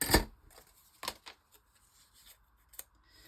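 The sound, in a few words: scissors snipping fragile craft pieces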